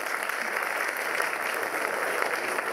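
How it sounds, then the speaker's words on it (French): Audience applause at a film festival opening gala in Liège, a steady dense wash of clapping filling the hall throughout, with no voices on top. "On peut l'applaudir aussi."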